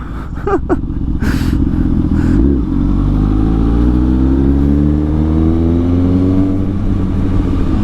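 Honda Fireblade motorcycle engine with an aftermarket exhaust, revving in quick sharp blips and then climbing in one long, loud, rising pull close to the microphone.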